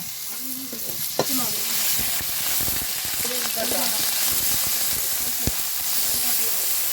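A spice paste of cumin, ginger, garlic and chili fries and is stirred in a pan: dense, continuous sizzling with scraping strokes and a few sharp clicks.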